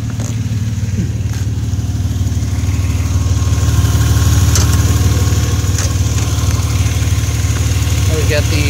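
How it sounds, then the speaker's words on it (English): A Subaru EZ30D flat-six engine swapped into a 914 idles steadily up close, a loud, even low drone with a faint buzz, and a few light clicks and taps over it. "Got the flat six"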